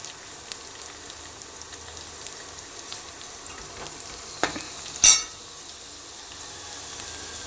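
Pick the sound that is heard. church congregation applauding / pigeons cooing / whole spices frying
whole spices frying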